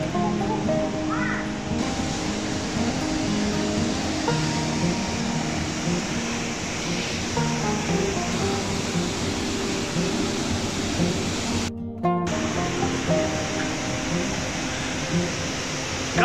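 Waterfall in the Leutasch gorge, a cold river canyon, giving a steady, loud, broadband roar of rushing water throughout, with a brief dropout near the end and faint bird calls.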